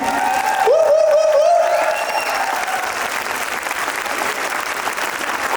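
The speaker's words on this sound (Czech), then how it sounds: "Ještě jednou potlesk pro naše nejmenší hit." A crowd at a dance exhibition applauds the youngest performers, loud sustained clapping with a short cheer or whistle near the start, continuing evenly to the end.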